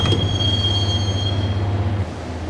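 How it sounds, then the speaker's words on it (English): A subway train in the Max Payne video game rides along the track toward Roscoe Street Station, with a steady loud low rumble and a sustained high wheel squeal that eases off near the end. "the train doors had already shut behind me, and I was in for the ride"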